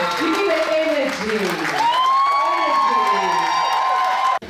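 An audience at an international arts festival showcase on closing night applauds and cheers, loud clapping topped by sustained whoops and shouts that swell mid-way, then cut off abruptly.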